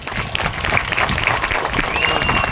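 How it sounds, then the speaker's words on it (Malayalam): Audience applause at an RCM business depot inauguration, a dense, sustained crowd clapping that holds steady throughout, fairly loud and close. "ഇതിൻ്റെ നടത്തിപ്പുകാർക്ക് ഒരു വലിയ ക്ലാപ്പ് നമ്മൾ കൊടുക്കണം."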